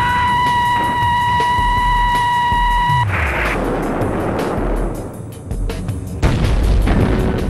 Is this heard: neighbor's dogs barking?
no